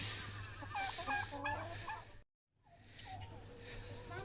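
Chickens clucking and squawking nearby in a small flock at a chicken coop while being fed, with a short pause of near silence before the calls continue.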